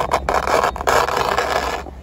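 Snowscoot scraping over smooth, hard ice on a steep slope, a loud, close, continuous rasping skid with brief breaks, no voices over it.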